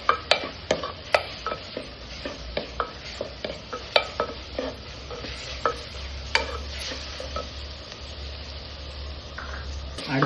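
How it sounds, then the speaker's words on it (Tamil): Green chilies sautéed with onion and tomato in a pan: a low steady sizzle punctuated by repeated rhythmic clacks of a spatula stirring against the pan, close and fairly quiet. "கட் பண்ணி வச்ச பச்சை மிளகா அதையும் போட்டு வதக்கிக்கலாம்."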